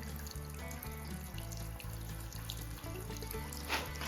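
Water from a natural iron-rich mineral spring at Skhidnytsia flows in a steady, quiet trickle and splash with no talking.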